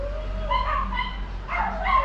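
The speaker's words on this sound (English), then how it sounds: "The dogs are barking." A neighbor's dogs bark and yip in the distance, two short bursts of barking with whimpering tones over a low steady hum.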